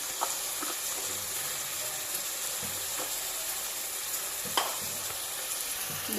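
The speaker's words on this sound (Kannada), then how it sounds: "ಮೆಂತ್ಯ ಸೊಪ್ಪನ್ನು ಹಾಕಬೇಕು. ಹಾಕಿ ಚೆನ್ನಾಗಿ ಫ್ರೈ ಮಾಡಬೇಕು." Chopped fenugreek leaves frying in a pan, a steady close sizzle and hiss with occasional soft scraping stirs and light clinks.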